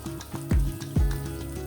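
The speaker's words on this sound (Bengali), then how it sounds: "এই পিস এবং এই পিস দুই পিসই খুব সুন্দর করে আমি মাছটা ভেজে নিয়েছি" Sarpunti fish pieces frying in hot oil give a steady close sizzle with repeated low thumps and bursts, likely from pieces being moved in the pan.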